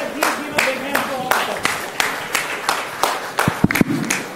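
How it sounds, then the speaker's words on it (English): Audience applause for the panel speakers at an education forum, heard as scattered, uneven claps with distinct individual hits rather than a dense roar, while a voice talks over them. "Let's give them another big round of applause."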